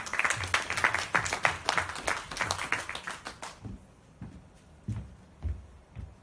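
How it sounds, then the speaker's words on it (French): A small audience claps for a young contestant in a French competition, brisk and fairly close for about three and a half seconds, then stops, leaving a few scattered taps and low room noise. "Vous l'applaudissez s'il vous plaît aussi."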